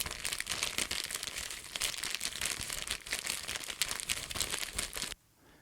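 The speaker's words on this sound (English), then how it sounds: "This is just a little ziplock bag." A small plastic ziplock bag is crinkled steadily and close up for about five seconds, giving a dense, crackly rustle with sharp bursts before it stops abruptly into near silence.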